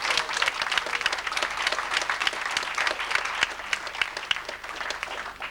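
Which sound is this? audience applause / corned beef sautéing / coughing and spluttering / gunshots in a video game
audience applause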